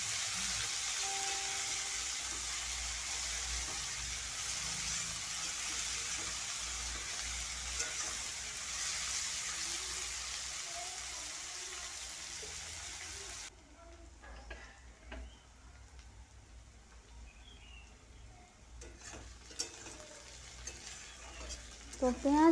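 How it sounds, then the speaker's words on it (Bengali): Chopped onions frying in oil with asafoetida for a cabbage curry: a loud, steady sizzle that cuts abruptly to a quieter, fainter hiss with scattered utensil clinks and a brief voice. "হিং দেওয়ার পরে আমি দিয়ে দিচ্ছি তেলের মধ্যে কুচনো পেঁয়াজকে আমি ভালো করে ভেজে"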